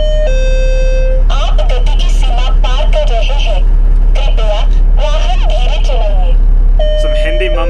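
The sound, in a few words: endless beeping and Hindi mumbling in a truck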